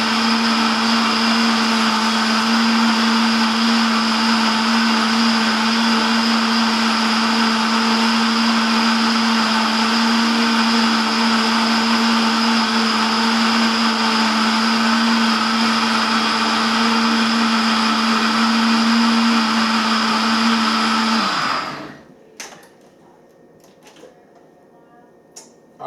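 A blender runs steadily and loudly, whirring a peanut butter banana smoothie for about twenty seconds before the motor winds down and stops, leaving faint clatter.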